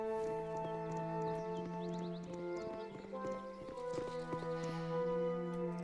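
A horse's hooves clip-clop in the video game Baldur's Gate: Enhanced Edition, under steady background music, with faint rhythmic clopping and no talking.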